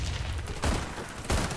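Grenades exploding in the online shooter Warface, two sharp close blasts about half a second apart over a constant roar of gunfire and battle noise.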